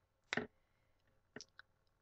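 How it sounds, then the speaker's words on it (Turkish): A new wireless Tecno Max computer mouse gives a few crisp, close clicks: one sharp double click, then a quick pair of lighter clicks a second later, in a quiet room. "Ben yeni mouse aldım. Şöyle Tecno Max diye bir mouse, böyle kablosuz."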